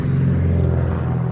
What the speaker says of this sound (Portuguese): Desculpa o barulho do carro.